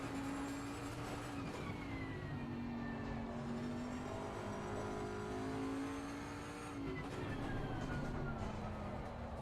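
A race car engine in the Assetto Corsa sim racing game holds a steady, droning note at moderate level, pitch gliding gently up and down through gear changes and corners, with a brief dip and recovery partway through.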